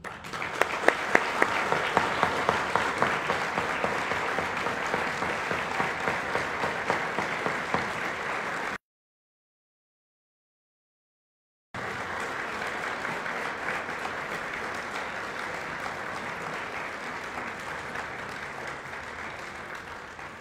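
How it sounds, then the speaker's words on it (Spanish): A congregation applauds in church after the solemn religious profession of an Augustinian Recollect friar, a sustained, even clapping that breaks off into complete silence partway through, then resumes at a slightly lower level. "Le damos un aplauso."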